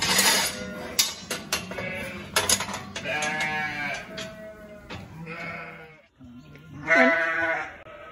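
A ewe bleats repeatedly at close range while being handled for a CIDR sheep breeding program, the loud calls coming in several bursts with metallic clatter and handling noise around them.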